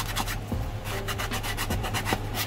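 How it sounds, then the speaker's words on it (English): Sandpaper roughs up the surface of a Halloween skull in quick, rhythmic back-and-forth rasping strokes, close and fairly loud with no voices. "the first thing we're going to do is we're going to take sandpaper,"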